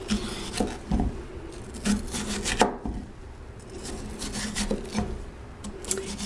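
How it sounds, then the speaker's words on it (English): A kitchen knife cuts the pith and seeds out of a bell pepper on a wooden board, making repeated scraping, rubbing strokes with light taps, close and steady, with no talk over it. "bring your knife around, cutting off the pith and the seeds"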